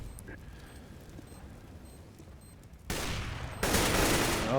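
Bursts of gunfire from a CS:GO match crack out in two loud, sustained volleys after a quieter lead-in, close and dense.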